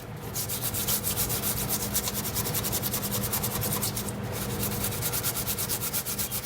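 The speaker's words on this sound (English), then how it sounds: "Once I run some steel wool over it, all that rust will come off" Steel wool scrubbing rust off steel parts of a vintage glider, a steady rapid back-and-forth rasping that continues without pause, close and fairly loud with no talk.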